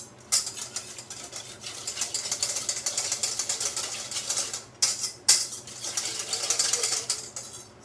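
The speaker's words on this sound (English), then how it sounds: "so now we will whisk this together." Poke sauce for an ahi tuna poke being whisked in a bowl, a steady close rapid metallic clatter and swish that carries on with only brief pauses.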